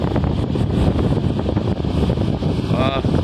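Wind gusting across the open deck of a crowded passenger ferry at sea, with light drizzle, a steady loud rushing roar buffeting the microphone throughout, engine and water noise beneath.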